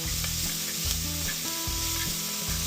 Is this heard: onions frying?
yes